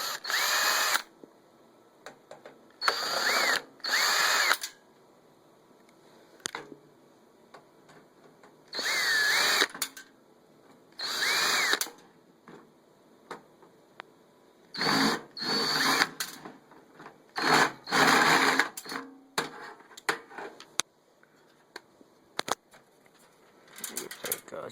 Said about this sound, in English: let's just take some of the screws out.